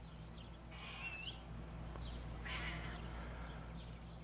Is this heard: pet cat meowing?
yes